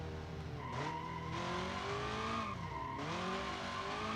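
A TVR car in the BeamNG driving game, its engine droning steadily with rising and falling pitch as the tires skid and squeal through turns, loud and continuous throughout.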